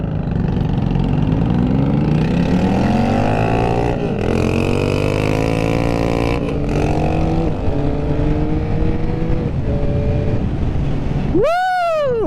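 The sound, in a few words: 2022 Yamaha MT-09 motorcycle engine revving at quarter throttle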